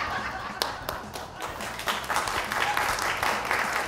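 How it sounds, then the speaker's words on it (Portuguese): Studio audience applause and clapping after a joke on a pop entertainment show, moderately faint but steady, with a few sharper claps and a voice underneath. "Tô na dúvida se estão aplaudindo pela piada ou porque eu parei de cantar."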